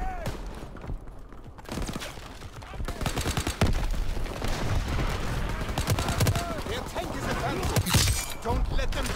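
Machine gun fire in Call of Duty WW2 rattles in rapid bursts amid other battle gunfire and impacts, loud and close, with a voice talking over parts of the action.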